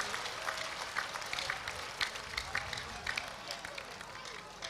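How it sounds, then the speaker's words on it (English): A church congregation claps together during a clap offering, a steady mass of crowd applause with rhythmic beats at moderate distance, mixed with faint voices and murmur. "It's like many of you are tired of this clapping"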